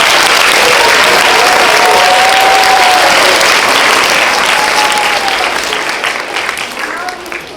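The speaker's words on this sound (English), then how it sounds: "can we give her a round of applause?" Dense applause rings out from an audience at a primary school's 70th birthday celebration assembly, sustained and loud at first, then gradually thinning toward the end.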